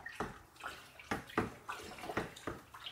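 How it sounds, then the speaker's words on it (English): A sugar wash with yeast and nutrient is stirred in a container, producing rhythmic liquid swishes and sloshes about every half second, close and fairly quiet. "So we'll just give this a good stir, give it a mix in"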